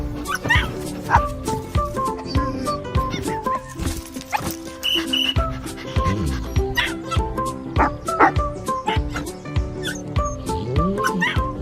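A dog barks, yips and whimpers in a Subaru Ascent three-row SUV advert, with frequent sharp barks throughout and a voice or other sound beneath.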